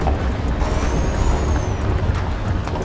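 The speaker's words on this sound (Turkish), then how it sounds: "araç toprak yolda patinaj çekiyor" Truck wheels spin and slip on a dirt road in Euro Truck Simulator 2, a steady loud engine-and-tire roar with a faint rising whine over it, continuous and unbroken.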